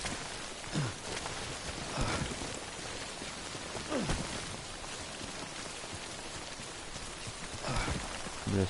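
Steady rain, called timefall, pours in a video game, a constant wash of patter with a few brief low swooping tones rising over it, and no talking.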